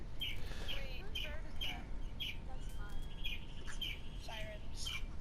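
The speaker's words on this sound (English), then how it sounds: "do you mean the chirping? Yeah. Those are my parakeets." Pet parakeets chirp in short, repeated high tweets indoors, fairly faint over a low background rumble, with several quick call bursts spread through the moment.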